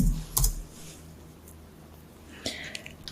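Keys pressed on a computer keyboard, a few quick light taps and clicks close by, faint and sparse, with quiet room noise between them.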